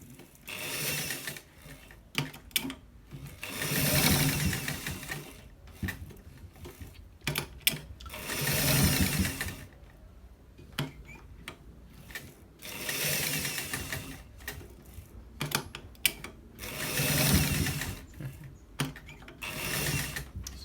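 A sewing machine stitches a front pocket, its mechanism whirring in repeated long runs of several seconds each, broken by quieter pauses with clicks and handling noises between them.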